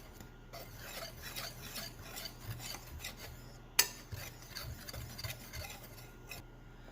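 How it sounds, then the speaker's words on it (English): Flour, baking powder, salt and pepper being stirred together in a bowl, giving a steady soft scraping and rubbing with one sharper knock midway, close and without talk. "Gonna go ahead and give that a mix."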